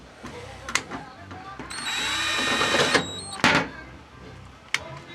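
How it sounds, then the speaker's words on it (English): A cordless drill boring out a centered hole, running in a sustained whine for about a second with short bursts and clicks before and after, close and fairly loud. "I have a nice centered hole that I can drill this out very nicely"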